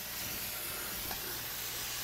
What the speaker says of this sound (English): I'm just gonna spray it a little bit to make sure all this moss